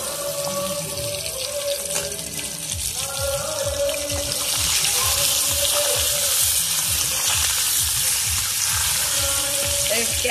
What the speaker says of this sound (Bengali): এই যে তেলটা ফুটছে, এবারে আমি আমটা ছেড়ে দেবো।